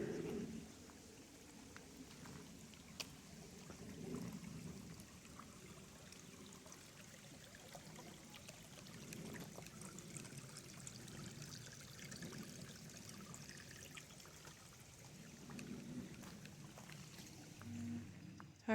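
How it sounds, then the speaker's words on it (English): Small woodland creek running over a trail crossing, a steady broadband wash of flowing water heard close by throughout, with no talking. "Got a little creek crossing here."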